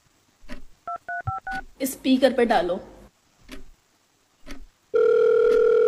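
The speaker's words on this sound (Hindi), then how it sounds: "फोन लगाओ, उसे" Telephone call placed on speaker: a quick run of dialing keypad tones, then a steady tone after a pause, with people talking in between.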